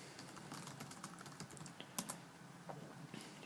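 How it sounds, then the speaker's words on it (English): Steady, rapid keystrokes tap on a computer keyboard while a task is entered into real estate task management software, faint and close, with a few slightly heavier presses. "I'm just going to type something in"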